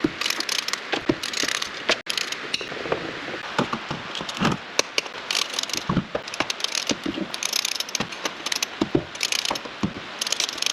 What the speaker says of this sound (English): I'm going to put it in hand tight and then I'm going to torque it down